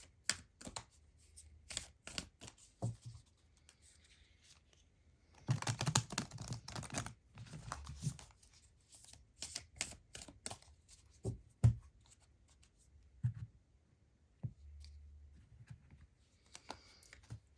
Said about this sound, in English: let's get you a couple cards from the Isis Oracle deck